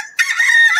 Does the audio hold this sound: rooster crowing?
yes